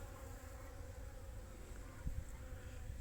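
Honeybees buzz faintly and steadily around melting snow in winter, a soft continuous drone with a couple of brief closer passes.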